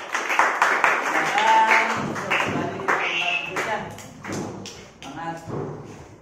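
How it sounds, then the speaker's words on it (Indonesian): Classroom applause for a student group in a science lesson, rough bursts of clapping and thumping mixed with chatter and voices, loud at first and then fading unevenly. "kita kasih aplaus untuk kelompok 3"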